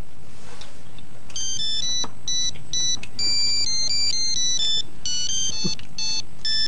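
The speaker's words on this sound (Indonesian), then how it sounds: "Handphone siapa Bang?" A mobile phone ringtone plays a bright, repeating electronic melody of beeping notes, loud and close over a faint room background, with no talk.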